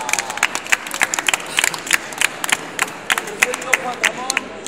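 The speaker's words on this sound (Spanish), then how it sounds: "Fuerte aplauso para Kaila." Scattered audience clapping greets a performing dog act on an outdoor café terrace in Vigo, a moderate crowd sound with distinct individual claps rising and falling steadily throughout.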